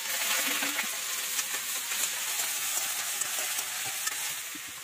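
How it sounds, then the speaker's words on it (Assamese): Cut jackfruit pieces frying in hot oil in a kadai, with a steady, loud, close sizzle and crackle, joined by occasional stirring scrapes and clinks throughout. "মই প্ৰথমে কঁঠালখিনি ফ্ৰাই কৰি লম কাটি থোৱা"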